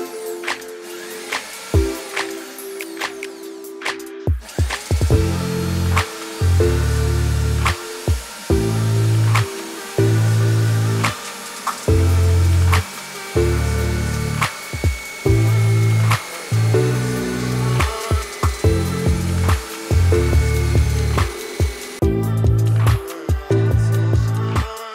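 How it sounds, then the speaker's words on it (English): A loud power drill boring into oak clamped on a mill, whining in repeated bursts with steady tonal hum, starting and stopping many times across the stretch. "So this drill is particularly loud"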